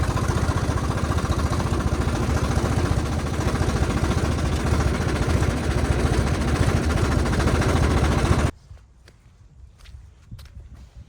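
A loud Ford tractor engine chugs steadily with a rough, pulsing rumble for most of the stretch, then cuts off abruptly, leaving quiet with a few faint clicks.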